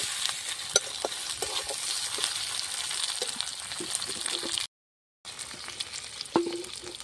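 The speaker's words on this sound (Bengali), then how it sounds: "এবার আমি কিছুটা টমেটো দিয়ে দেবো এর মধ্যে টমেটো দিয়ে একটু নাড়াচাড়া করব" Chicken liver and gizzard sizzle in a hot pan as tomatoes are stirred in, giving a steady close frying hiss with scattered spoon scrapes and taps and one brief dropout.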